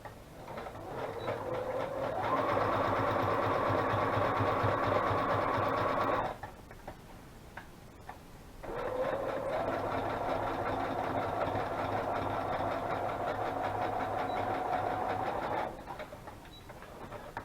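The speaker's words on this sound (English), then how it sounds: "I just kind of did my sewing just a little jagged" A sewing machine stitches a zigzag on torn paper in two long, steady whirring runs separated by a short pause, close and clear with soft handling noises between.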